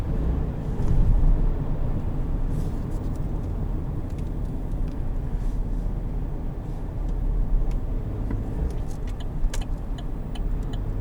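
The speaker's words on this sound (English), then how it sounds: "You can hear it spool up, hear it when the blow-off valve activates." A 2020 Chevrolet Silverado Custom Rally Edition turbo engine spools up with a steady driving rumble from inside the cab, with brief hissy bursts from the blow-off valve near the end.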